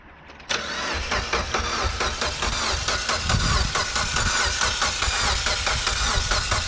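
A Mitsubishi Evo X engine cranks on the starter, a loud continuous whirring churn that kicks in abruptly and keeps grinding for several seconds without catching, close up and alone.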